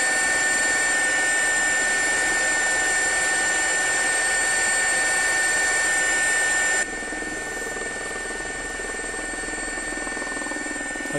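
In X-Plane 12, a simulated Gazelle SA341 helicopter runs at full throttle, a steady, loud turbine whine with rotor hum that drops slightly in level partway through.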